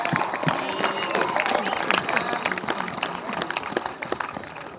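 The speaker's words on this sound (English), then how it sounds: "let's give them a round of applause" A crowd applauding at a high school football pep rally with dense, scattered clapping, fairly loud and close, with some voices mixed in throughout.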